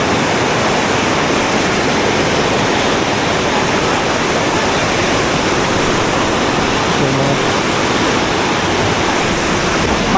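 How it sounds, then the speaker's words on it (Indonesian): A fast, clear river rushes beneath a wooden footbridge in a Sukabumi valley. It makes a loud, steady, unbroken roar of water that fills the whole clip, and any speech is buried under it. "Dan ini di aliran sungainya. Wah, jernih banget. Seru, deres banget."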